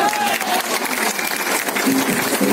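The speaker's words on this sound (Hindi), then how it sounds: "खड़े होकर के जोरदार तालियां दीजिए।" A standing audience claps loudly at a business training seminar, honoring a visiting saint; steady, dense applause runs throughout, with some voices and background sound mixed in.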